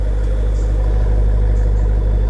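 A 2018 Jeep Grand Cherokee Trackhawk idles through true dual exhaust, a loud, steady, deep rumble close by with no break.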